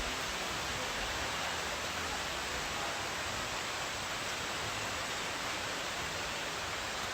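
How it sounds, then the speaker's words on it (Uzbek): Steady, even hiss of rain falling continuously, fairly soft and unbroken throughout, with no voices or other sounds. "momaqaldiroq va yomg'ir. Yugurib kelyapti yomg'ir."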